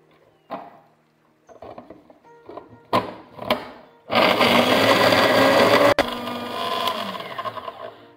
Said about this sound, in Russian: Измельчаем печенье.